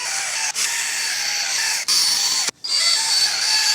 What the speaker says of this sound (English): so have fun and wet sand your headlight.